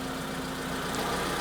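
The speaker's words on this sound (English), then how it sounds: "It's not fair just sitting there revving it, is it?" A stationary Proton Satria car's engine idles and revs steadily up close, a continuous humming drone with a persistent tonal whine and no speech.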